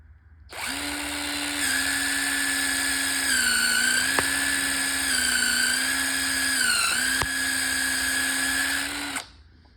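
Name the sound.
cheap step drill bit drilling a hole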